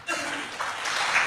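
An audience claps steadily through a short burst of applause at a talk on cow protection and farming, a dense wash of many hands throughout.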